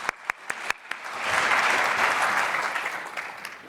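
A few separate claps ring out, then a conference audience at a security talk joins in a warm, full round of applause that swells and holds before easing slightly.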